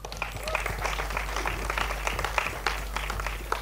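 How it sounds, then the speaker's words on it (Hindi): An audience at a movie trailer launch event applauds in a moderate burst of clapping, with sharp individual claps over a low background hum. "Nishikant Kamath के लिए तालियां हो जाए"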